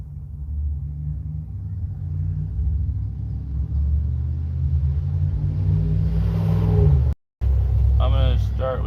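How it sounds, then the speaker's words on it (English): Road traffic passing through a neighborhood: a steady low rumble of a passing car for most of the stretch, building slightly before cutting off abruptly, then a brief return with a voice speaking over it. "There is traffic going by."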